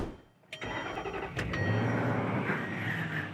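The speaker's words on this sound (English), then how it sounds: "let's start this bad boy up" A Range Rover L322 engine cranks briefly with a starter whirr, catches and fires up, then settles into a steady, fairly loud idle close by.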